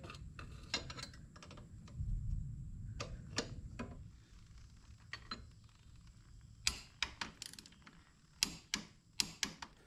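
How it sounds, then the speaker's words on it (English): A torque wrench with a 14 mm socket tightening a linkage bolt to 45 Nm on a Honda Africa Twin rear suspension, heard as scattered sharp mechanical clicks and ticks at close range, clustering toward the end over faint low rumble. "I'm going to use a 14 millimeter socket on the torque wrench so that I can torque this to 45 Newton meters."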